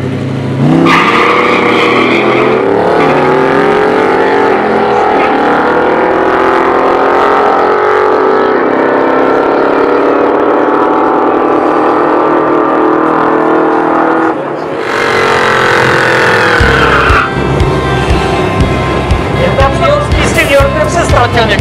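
Cars racing and spinning their tyres in burnouts at the Mustang Drag Strip, including a 650hp V8-swapped Mk1 Escort. A loud, sustained engine roar rises and holds, then cuts to a harsh, rapid-fire exhaust rattle near the end.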